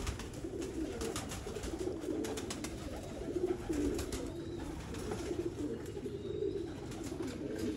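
Sialkoti rooftop pigeons coo in soft, repeated rolling phrases, a few birds overlapping nearby with steady background hiss and no voices.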